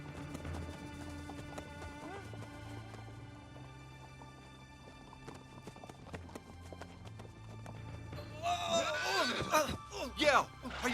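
Horse hooves clip-clopping at a steady walk under a rider, heard beneath orchestral music, with a burst of louder commotion and a voice near the end.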